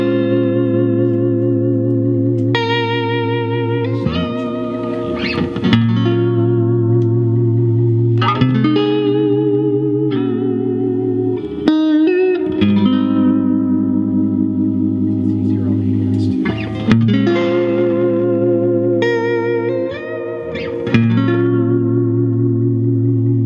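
A 1965 see-through blonde Fender Jazzmaster electric guitar plays through a Deluxe Reverb amp with a touch of reverb, ringing out sustained chords and melodic runs loud and close, with steady strums and note changes throughout.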